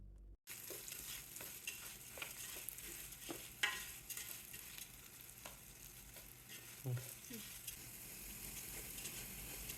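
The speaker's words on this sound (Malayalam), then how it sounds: "അരിയൊന്ന് നന്നായിട്ടൊന്ന് വറുക്കണം അതിൻ്റെ ആ ഒരു പൊട്ടുന്ന ആ ഒരു സൗണ്ട് വരുന്നവരെ നന്നായിട്ട് വറക്കണം" Rice roasting with salt in a hot pan for Thalassery biryani, a steady dry sizzle with scattered crackles and stirring scrapes, moderately close, with no talking.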